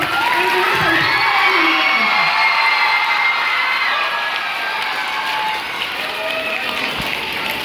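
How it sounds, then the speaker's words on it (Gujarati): At a school Grandparents Day event, the audience claps for the helper staff. Loud, continuous applause mixes with cheering and children's shouts, filling the whole stretch. "એમના માટે સૌથી વધારે તાળીઓ પાડવી પડશે"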